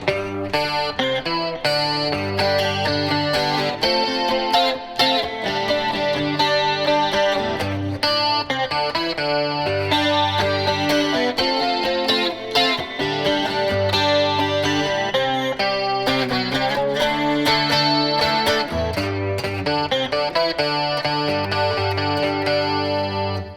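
Electric guitar picks out single notes in flowing arpeggios, steady and loud, with a shimmering chorus-like wash and slight grit throughout.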